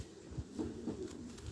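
A female pigeon coos softly a few times in short, low, throaty bursts, faint and close, with no voices over it.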